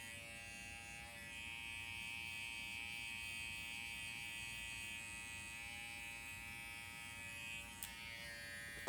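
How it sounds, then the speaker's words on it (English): An electric hair clipper cutting blond, textured hair with a steady, close motor buzz that holds evenly, broken only by a small click near the end. "I'm just using the toe or the heel of my guard or my clipper."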